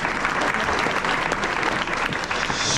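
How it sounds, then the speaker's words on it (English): A crowd at a high school basketball banquet gives a round of applause for the team's lead manager, a full, loud, sustained clapping that holds steady throughout. "Let's give her a round of applause."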